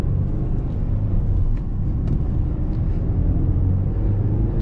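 Inside a 2006 Subaru Legacy IV with a 2.0 boxer engine of 165 hp while driving, a low steady engine and road rumble fills the cabin, even and continuous without speech.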